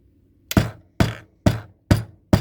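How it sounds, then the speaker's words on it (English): Five loud, sharp hammer blows land at a steady, unhurried pace during a painting job, each strike ringing briefly before the next, with no talk in between. "Shut your ears if you don't want to hear the hammering"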